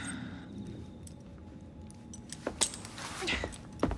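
A set of keys jingles briefly as it is handed over in a Victorian London setting in Assassin's Creed Syndicate. A few light metallic clinks sound near and moderately loud over ambient room noise.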